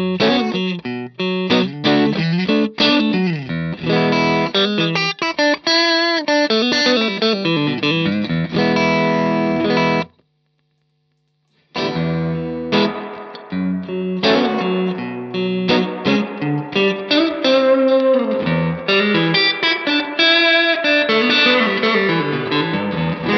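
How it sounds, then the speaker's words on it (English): A clean electric guitar plays straight into the amp, with strummed chords and picked lines that stop briefly midway before resuming. "So the Macmull S-Classic straight into the amp sounds like this"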